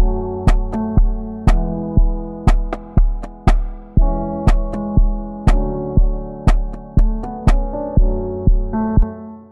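An electronic beat: a steady, loud kick-and-percussion pattern with regular sharp hits, under sustained sine-wave synth bell chords, with no voices.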